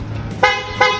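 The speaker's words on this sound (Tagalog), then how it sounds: "Sinabayan pa yung boss ng P-horn para pati tunog premium." The P-horn on a Yamaha Aerox V3 motorcycle sounds two short, bright toots close by, one after the other.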